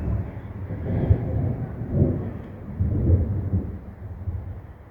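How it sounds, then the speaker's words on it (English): Thunder rumbles low and heavy in repeated rolling swells as a thunderstorm passes over a backcountry lakeside camp, loud and close with wind buffeting the microphone. "We've got some thunderstorms rolling through."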